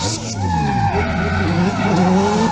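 A car drifting in a racing game with a Toyota 2JZ engine, tires skidding and squealing loudly and continuously under a roaring engine, with no talk.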